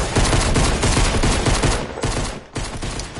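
Rapid, dense Fortnite Battle Royale gunfire rattling almost continuously at close range, with a brief gap near the end before the shots resume.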